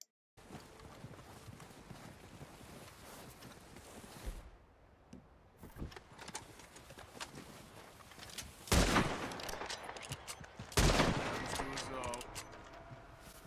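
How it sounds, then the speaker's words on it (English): Gunshots fired at the legendary white bison in Red Dead Redemption 2, with a few sharp cracks early on and two loud, booming shots later, set against hoofbeats and ambient outdoor sound. "I'm going to shoot at him. And I hit him a few times."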